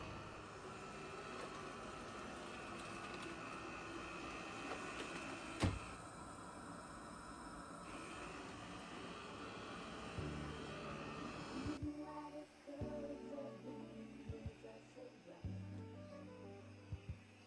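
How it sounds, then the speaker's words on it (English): A Eufy RoboVac 30 Edge robot vacuum cleaner runs with a steady whirring motor hum and brushing rasp, one sharp click partway through, then a shift to a rougher, lower rolling tone as it moves across the floor. "Ask RoboVac to clean, and off it goes."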